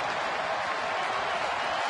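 Baseball stadium crowd rising to its feet and cheering at a night game, a broad, steady roar of many voices and some clapping, far and filling the air without a break.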